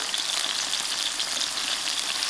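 Tomatoes quick-frying in a pan for a tuna pasta, a steady close sizzle and crackle that continues evenly throughout with no voices.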